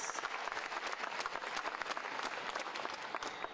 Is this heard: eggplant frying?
no